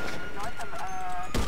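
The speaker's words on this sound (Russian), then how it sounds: "Ух ты, одним выстрелом двух убили." A single sharp, loud gunshot in the modded video game GTA 5 bursts out near the end, following a stretch of someone talking.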